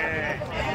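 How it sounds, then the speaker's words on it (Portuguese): Sheep bleating at a goat and sheep livestock fair in Tabira, Pernambuco, a short continuous bleat close by with faint crowd noise behind. "Três ovelhas paridas."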